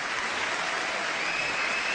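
Dense, even applause from a large audience at an honorary tribute event, continuous and full like a steady roar, with no break over the short span.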